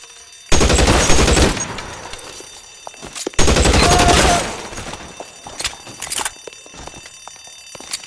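Gunfire from the video game L.A. Noire: two loud, dense bursts of automatic fire, each lasting about a second, followed by scattered single shots and impacts.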